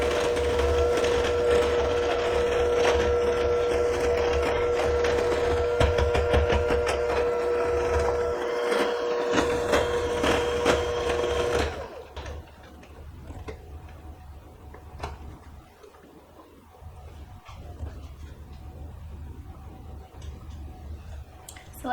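Banana bread batter with brown sugar is mixed in a bowl, probably by an electric mixer. A loud, steady mechanical whir with rapid ticking runs for about twelve seconds, then stops, leaving quiet scraping and faint knocks.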